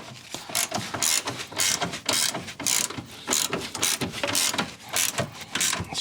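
Rapid, steady clicking of a ratchet wrench tightening a screw, the pawl ticking in quick bursts of repeated strokes close up with no talk.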